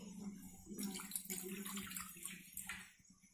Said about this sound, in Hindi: उसी कटोरी से नाप कर एक कटोरी पानी डालेंगे